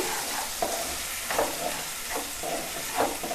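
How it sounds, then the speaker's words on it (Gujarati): A spiced roti mixture with Kashmiri red chilli powder being stirred and fried in a pan, a soft continuous sizzle broken by regular scraping strokes, close and moderately quiet, no voices. "ને સારી રીતે બધું મિક્સ કરી લેશું"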